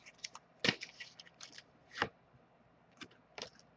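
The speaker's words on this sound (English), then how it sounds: "As I shuffle the deck" A deck of oracle cards is shuffled quietly by hand, giving a few soft, irregular riffling snaps and slides with short pauses between them.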